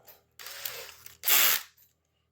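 A power drill turns the mainspring arbor of a late-1920s Haller German Art Deco mantel clock, giving a whirring mechanical buzz followed by a louder, harsher burst of grinding ratchet noise, then quiet.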